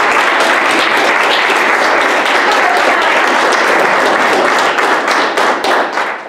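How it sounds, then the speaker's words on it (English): An audience at a college speech competition final claps loudly for a teacher, close dense applause with distinct individual claps that keeps up strongly before thinning toward the end. "So please give Amy a round of applause"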